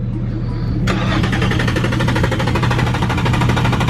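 A Nissan 350Z limo engine cranks briefly, then catches and settles into a loud, close, rough idle that rumbles steadily with a rattling, uneven texture.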